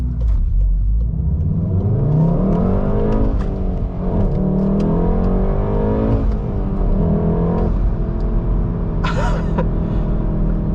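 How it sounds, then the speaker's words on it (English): A 2019 Volkswagen Golf R with a 6-speed manual accelerating hard, its engine note rising through the revs, dropping at shifts and climbing again, loud and close from inside the cabin. "you can hear a little bit more of an enhanced engine note"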